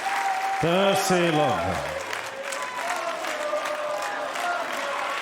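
A tennis crowd at the US Open applauds steadily during a first-round match, a broad wash of clapping that continues under a commentator's voice and a chair umpire's score call.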